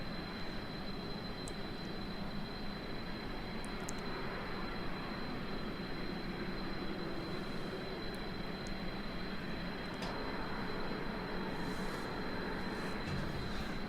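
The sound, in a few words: plane engine flying in video game Kerbal Space Program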